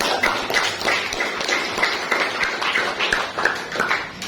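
A classroom of students applauds a classmate named Gracia, a dense, continuous patter of many hands clapping at once, fairly close and without speech over it.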